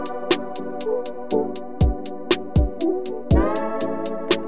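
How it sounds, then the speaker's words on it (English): A soft atmospheric synth pad from the Serum synthesizer swells with a ramping rise inside a looped beat, with rhythmic hi-hat ticks and low bass hits recurring throughout at moderate loudness, no voices. "I found this pad that has a really cool like ramp up action."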